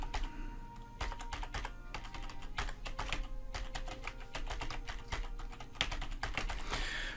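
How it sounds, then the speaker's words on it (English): Steady, close typing on a computer keyboard, a dense run of sharp keystroke clicks with brief gaps, heard alone against a low background hum. "And I'm going to type in"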